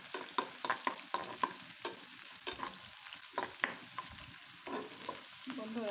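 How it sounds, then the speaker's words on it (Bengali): Onion and garlic fry in a pan while being stirred, with quiet, continuous sizzling broken by irregular scraping and clattering strokes of the spoon; close and fairly soft, with no talking. "এখন সুন্দর করে পেঁয়াজ রসুনটা ভেজে নেব।"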